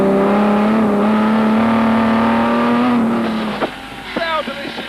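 A loud racing engine holds a steady high drone at the 1998 Goodwood Revival, then drops off as the car brakes into a chicane, followed by quick downshifts and revs as it accelerates away.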